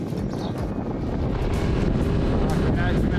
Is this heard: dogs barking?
no